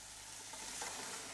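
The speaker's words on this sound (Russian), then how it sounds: "Не пережарьте грибы." Mushrooms frying in a pan, a faint, steady low sizzle with a slight swell partway through, quiet and with no talking.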